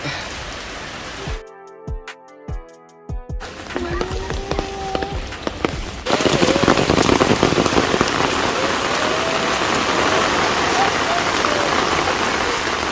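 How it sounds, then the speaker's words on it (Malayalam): Heavy rain pours down, starting behind brief voices and clattering sounds, then swelling after several seconds into a dense, loud, steady roar of drops pounding surfaces nearby. "നല്ല മഴയാണ്."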